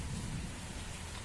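Steady rain falling outdoors in India, a dense, even hiss of drops on surfaces that fills the whole moment, fairly quiet, with no voices.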